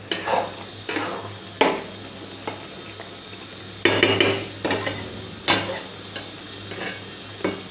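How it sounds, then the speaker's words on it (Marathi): Chicken chutney cooked with onion and tomato is stirred in a pan, a spoon scraping through it in repeated close strokes with soft sizzling between them and no voices. "एकदा हलवून घेते."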